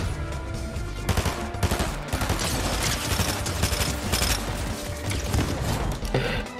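Gunfire from a video game shootout: dense, rapid bursts of shots and automatic fire crackle loudly and continuously, with sharp repeated cracks and mechanical clatter throughout.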